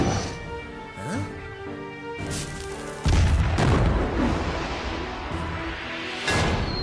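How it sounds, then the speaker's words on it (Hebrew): A cartoon cannon fires with a heavy boom that cuts in sharply midway, followed by a rumbling tail and another burst near the end, over music and sound effects. "אוי לא! תותח!"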